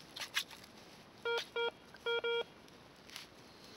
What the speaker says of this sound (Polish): Ładny sygnał. Piękny.